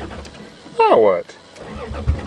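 A Toyota Cressida on a farm briefly cranks and catches, a loud half-second burst of rising and falling starter-and-engine tones over a low background rumble.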